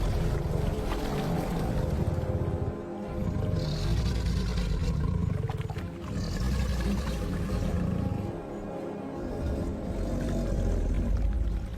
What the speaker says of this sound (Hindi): मिलन की उसकी ये पुकार करीब 1 किलोमीटर दूर तक सुनाई देती है